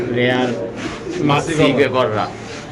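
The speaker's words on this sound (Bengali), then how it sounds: "এটা একটা গররা কবুতর মাক্সি গররা কবুতর" Caged pigeons at a pigeon sale coo in soft, rolling bursts close by, mixed with a person talking over them.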